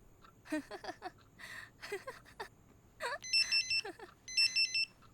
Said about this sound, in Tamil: வரிசையாக ஃபோன் வந்துக்கிட்டே இருக்கு.